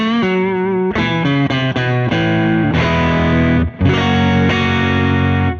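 Electric guitar played through the drive side of a Dane pedal on a Quad Cortex, loud and gainy distorted chords ringing and changing every second or so, with no voices.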